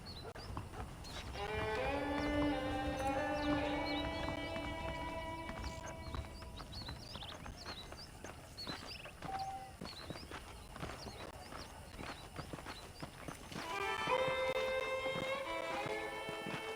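Rhythmic hoof clip-clops of a horse walking in Red Dead Redemption, with tonal music or game sound effects playing over them.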